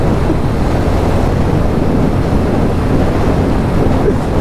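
Royal Enfield Bullet motorcycle riding on a road at night, a steady loud rushing roar of wind and engine that continues without a break for the whole stretch.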